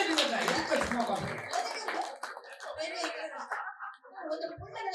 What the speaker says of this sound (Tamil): கைதட்டுங்கக்கா